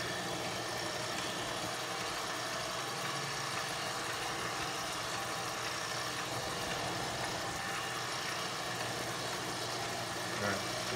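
A machine takes a heavy quarter-inch-deep cut on a T-nut, giving a steady, unbroken mechanical hum and grinding whir that runs evenly at moderate level throughout, with no talking.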